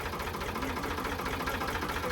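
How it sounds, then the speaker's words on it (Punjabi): A tractor engine idles close by, a steady, rumbling low chugging drone with a slight knock that holds constant throughout, no voices. "ਟਰੈਕਟਰ ਆਪਾਂ ਨੇ ਤਾਂ ਸਟਾਰਟ ਕਰਿਆ"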